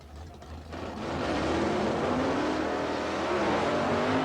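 A Holden Monaro drag car with a 305 Chevy engine races at the 1990 ANDRA Winternationals, its engine roar swelling from a quieter start into a loud, sustained, steady drone that holds near and full for several seconds.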